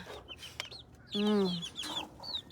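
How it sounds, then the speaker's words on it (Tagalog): A hen gives one loud, drawn-out cluck while small chicks peep in high, quick chirps around her, close by in a backyard coop. "Mga sisiw na mga ka-cute na mga sisiw"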